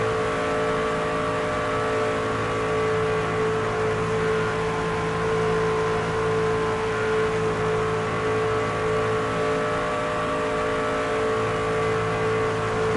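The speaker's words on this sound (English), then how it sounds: "There's Tanner Gray to the lead here at Daytona now" NASCAR 25 video game race trucks at Daytona make a continuous loud engine roar with steady whining tones that holds at a constant pitch across the whole stretch.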